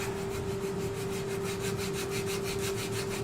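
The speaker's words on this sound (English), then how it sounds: "you've got to spend a bit of time sanding this" A woodturned piece being sanded on the spinning lathe, a steady close rubbing hiss with a rhythmic pulsing swish as the eccentric work rotates, over a constant motor hum, with no talking.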